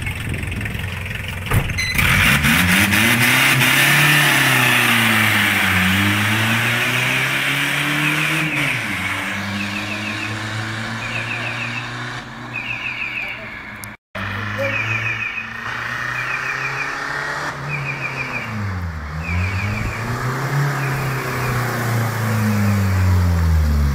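A diesel car engine idles with a rough, throaty drone and is revved up and down several times in slow swells. It stays loud and close throughout, with a brief cut partway through.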